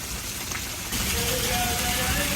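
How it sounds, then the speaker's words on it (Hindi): Heavy rain pours down steadily outdoors as a broad, constant hiss that grows denser partway through, with faint tonal sounds in the background and no talking. "जब से हम आए हैं आज बहुत ज़्यादा बारिश है"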